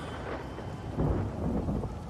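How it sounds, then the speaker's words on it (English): A rolling rumble of thunder over steady rain in the video game Everybody's Gone to the Rapture, a deep swell building through the middle, dense and close with no voices. "here comes the rain again"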